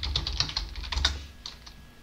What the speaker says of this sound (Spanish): escribimos snap install